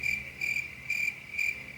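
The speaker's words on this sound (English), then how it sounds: "all you hear is crickets." Crickets chirp as a sound effect, a steady pulsing trill in four evenly spaced bursts, clear and alone.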